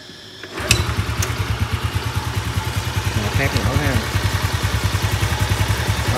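A rebuilt Thai-market Honda Dream motorcycle engine idles steadily after starting, with a close, even low-pitched putter throughout and someone speaking briefly over it.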